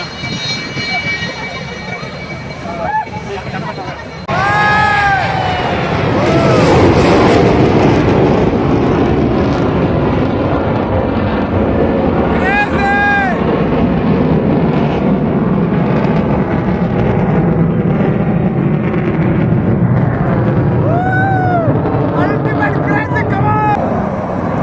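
A Sukhoi Su-30 fighter jet built by India and Russia takes off from the runway at Aero India 2025, a loud, sustained jet roar swelling in and holding steady, with voices and crowd noise mixed in.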